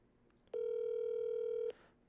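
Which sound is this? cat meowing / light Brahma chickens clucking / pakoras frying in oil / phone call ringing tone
phone call ringing tone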